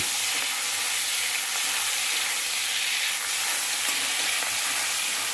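Prawns fry lightly in hot oil, giving a continuous bright, close sizzle and crackle at an even level throughout, with no voices.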